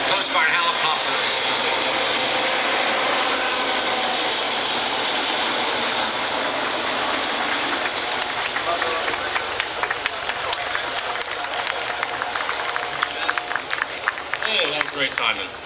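A Coast Guard helicopter passes overhead during an outdoor Memorial Day ceremony, its steady broadband engine roar building into rhythmic rotor thumping.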